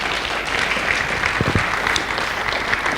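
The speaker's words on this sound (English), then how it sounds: "Keep the applause coming" A crowd at a company send-off ceremony claps steadily and evenly, a continuous wash of applause heard at moderate loudness throughout the short stretch.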